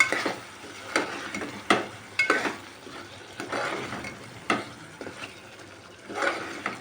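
A spoon scrapes and stirs through mutton and drumstick curry in a pan, giving soft repeated scraping strokes over a low sizzle, close and moderately loud.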